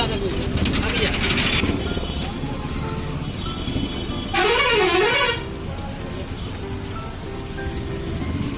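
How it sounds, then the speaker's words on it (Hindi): Heavy stop-and-go road traffic near a bridge and small market, with a loud, sustained vehicle horn blast midway over a constant roar of engines; someone talks throughout. "ये ट्रैफिक बहुत ज़्यादा बा, ऐसे रुक के गाड़ी चल रही है अभी"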